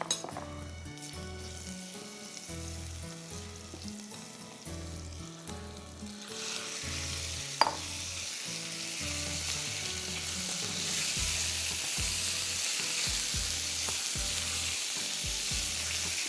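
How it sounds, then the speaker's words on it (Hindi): Chicken fries in a pan with a strong, continuous sizzle that swells louder partway through. A single sharp clink of a utensil rings out in the middle, and a low rhythmic hum runs underneath. "इसको आप अच्छी तरह से कुक कर लें, फ्राई कर लें फॉर 10 मिनट"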